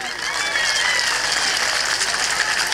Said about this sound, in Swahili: Hizo ni kofi za kizee